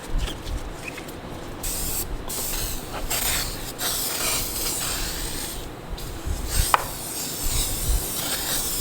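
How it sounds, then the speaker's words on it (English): Glass cleaner is sprayed into a rear A/C evaporator case from an Acadia, Enclave or Traverse and wiped out, giving close spray bursts and steady rubbing and scrubbing with no talking. "Spray it in there real good and wipe it out."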